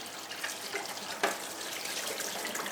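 Running water from a tap pours steadily into a sink as a jam pan used for strawberry and raspberry jam is rinsed out, with one brief clatter partway through.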